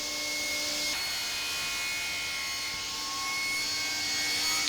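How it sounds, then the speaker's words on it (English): A jointer planes the face of an oak board in a continuous loud, even roar of the cutterhead, with a faint change near the one-second mark and no pause. "I turned to the jointer and planed the first face side."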